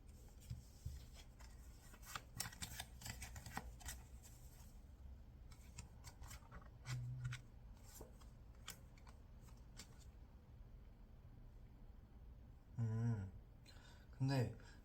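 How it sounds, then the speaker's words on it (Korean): Tarot cards being drawn and handled make soft papery rustles and slides, with a quick flurry near the start and brief thumps of cards set down toward the end. "그럼 카드를 좀 뽑아볼게요."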